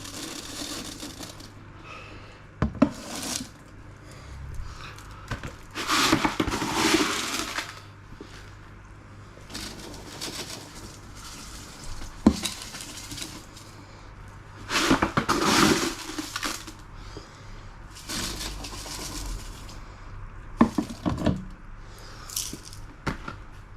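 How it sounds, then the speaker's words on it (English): Aquarium gravel is poured over soil in a planted tank, heard as several separate gritty, crunching pours in bursts with quiet gaps between them, near and moderately loud. "Put some gravel into there, just so it caps that soil in there as well."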